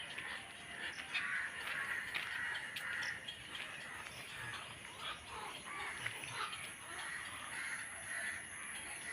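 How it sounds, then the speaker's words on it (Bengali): Crows caw repeatedly with other birds calling outdoors at dawn, a steady chorus of moderately distant calls over a constant background hiss. "কত সুন্দর পাখিদের আওয়াজ"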